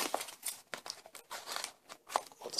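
Scissors snip and crinkle through the packaging of a subscription box, a run of close, irregular cutting and crumpling sounds with no talk.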